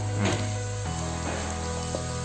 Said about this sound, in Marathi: हे फोडणीत मी हे मटण चांगलं परतते